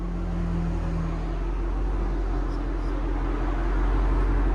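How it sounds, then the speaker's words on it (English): Ford Mustang GT 5.0L V8 with an aftermarket cat-back exhaust idling, a steady deep low rumble that holds even and loud throughout, with no revving and no voices. "Here's idle, guys."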